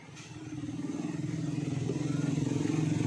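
An Isuzu D-Max throttle valve motor under test, giving a steady buzzing drone with a fast rhythmic pulse that grows slightly louder and holds close by.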